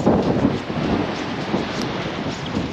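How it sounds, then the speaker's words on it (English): Gusty wind on a beach during a rainy fishing session, a loud, rough roar buffeting the microphone without a break from start to finish. "That wind's a bit gusty"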